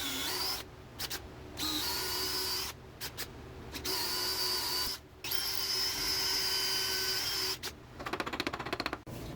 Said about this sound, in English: I'm gonna drill a 1/8 inch hole, dig in there until I get this guy fitting in there enough